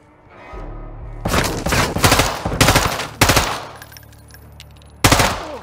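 Rapid automatic gunfire from Call of Duty: Modern Warfare 2, loud close bursts in several volleys separated by brief pauses, with a final sharp burst at the end; no talking.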